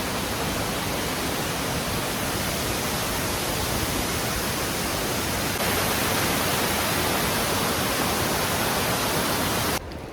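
Rushing water along a rainy mountain pilgrimage trail up Sivanolipatha (Adam's Peak), a loud, dense, unbroken roar that stays constant for the whole stretch.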